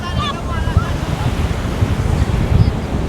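Ocean waves wash onto Sanur Beach in Bali, a steady low rumble of surf with wind buffeting the microphone and occasional faint background sounds.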